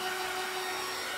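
A small handheld dryer blows over a canvas in a steady, unbroken whir with a constant tonal hum, close and even throughout.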